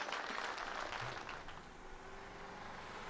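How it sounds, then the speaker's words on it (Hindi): Broad, steady applause from a crowd at a Radha-Krishna fair, loud at first and easing slightly, with no speech over it. "तालियां!"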